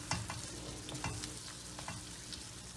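Tomato paste sautéing in a pan while being stirred for a moussaka, a steady close sizzle broken by repeated scraping strokes of the spoon, with no voices.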